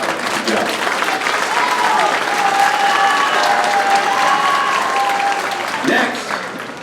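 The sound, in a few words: audience applauding a freshman bass drum player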